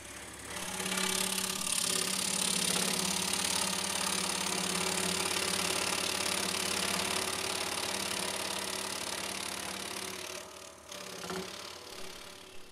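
A scroll saw fitted with a number 12 blade cuts slowly through 1.5-inch-thick maple for a leaf-shaped wooden box, a steady, loud, close mechanical buzz that runs unbroken, with a brief dip near the end.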